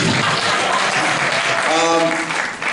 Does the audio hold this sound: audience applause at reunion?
yes